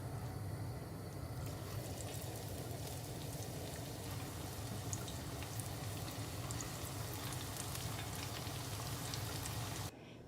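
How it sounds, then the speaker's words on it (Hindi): Pasta pakoras deep-frying in hot oil give a steady, dense crackling sizzle that holds level and close for about ten seconds before cutting off abruptly. "अब हम बाकी के तमाम पकौड़े भी फ्राई कर लेते हैं"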